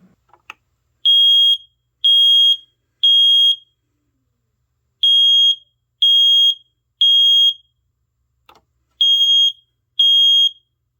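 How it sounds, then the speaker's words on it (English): A smoke detector sounds during a test-button press, giving sets of three loud, piercing beeps in a repeating rhythm, separated by pauses, with a couple of faint clicks before and between groups. "now I'm going to test the smoke detector with the test button"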